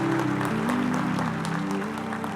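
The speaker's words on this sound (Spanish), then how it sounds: "Dale un aplauso al Rey de la sabiduría." A church congregation claps together during a sermon, a steady dense wash of applause under sustained musical tones, fading slightly toward the end.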